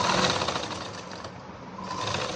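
A sewing machine runs stitches through stretched elastic on a ladies' pant, a close, fast rattling drone that dips briefly midway before picking up again.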